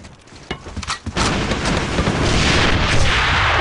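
Grenade explosions and gunfire in a video game, with a few sharp close bursts early on, then a loud sustained roaring blast that fills the rest of the clip.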